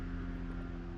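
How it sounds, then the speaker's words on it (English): A steady low droning rumble of a helicopter, continuous and fairly close, with no talking over it. "You can hear a helicopter right now, sorry."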